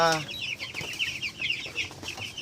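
Young Cobb 500 broiler chicks peep in a busy high chorus of rapid chirps, close and fairly soft, with a brief lower cluck at the start.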